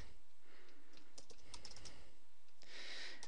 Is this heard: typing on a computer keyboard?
yes